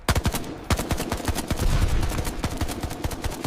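Battle gunfire from a war film, dense rapid bursts of automatic and rifle shots cracking in quick succession, loud and continuous without pause.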